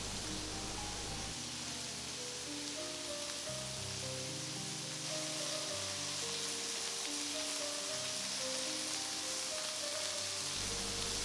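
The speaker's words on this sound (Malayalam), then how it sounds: "ഈ ചിക്കൻ ഇടയ്ക്കിടയ്ക്ക് ഇങ്ങനെ തിരിച്ച് മറിച്ചിട്ട് ഗ്രിൽ ചെയ്തെടുക്കാം." Turkish chicken kebab (shish tavuk) sizzles on a grill with a soft, steady hiss held under quiet background music, with no talking.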